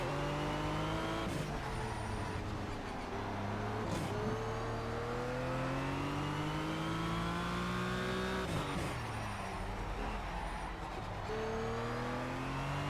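A Porsche 911 race car in Project Cars revs continuously at close range, its engine pitch climbing through gears with sharp drops at each shift, accompanied by brief tire noise, with no talking.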